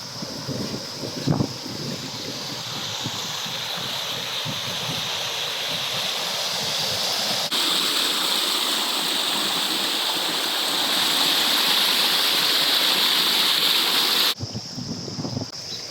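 A mountain stream in Madha, Oman flows steadily through the whole stretch, a continuous close rush of water with some wind buffeting the microphone and a brief rustle near the start.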